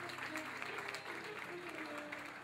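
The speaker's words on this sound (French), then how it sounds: "On applaudit très vivement Jocelyne Doris May." Applause from the audience at a tribute gathering, fairly faint and distant, a steady patter of clapping with a voice murmuring underneath.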